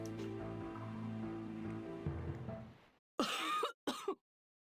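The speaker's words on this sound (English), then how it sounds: "Uh-oh, Viola's coughing a lot." Viola, a character in the video game Radiant Historia, coughs in a few sharp, short bursts near the end, following a stretch of quiet game music.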